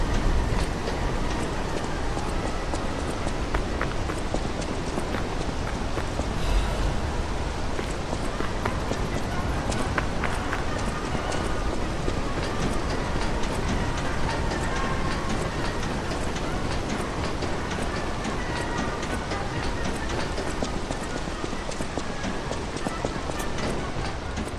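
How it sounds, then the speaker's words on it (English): Video game tram running slowly, a continuous, dense rumble with clattering rail rhythm, loud and steady throughout, with occasional talk beneath it. "This is the slowest tram ever."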